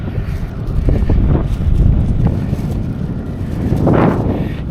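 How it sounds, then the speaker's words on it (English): Strong wind at a seaside promenade buffeting the microphone outdoors, a continuous low rumble with gusts swelling and fading; no talking. "there's a bit of wind out here."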